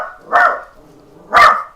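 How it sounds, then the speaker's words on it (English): A dog barks twice in The Outer Worlds, two loud, close, sharp barks about a second apart over a low background hum. "Enough, dog! Don't just bark in my fucking back like that!"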